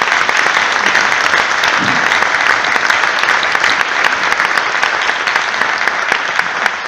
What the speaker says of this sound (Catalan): per als quals sí que he de demanar un fort aplaudiment